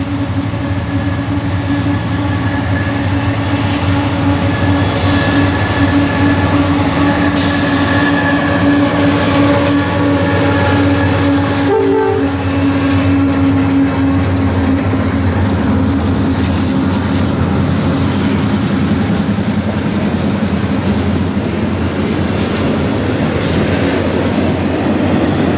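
A CSX freight train on the Willard Subdivision, led by a lashup of widecab GE locomotives in YN2 paint, rumbles past loud and near with steady rolling wheel noise and a sustained horn blast partway through.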